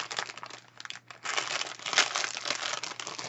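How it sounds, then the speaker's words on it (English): Plastic packaging crinkles faintly and steadily as a small craft package is opened, with a brief pause partway through and no talking. "sorry for the crinkling"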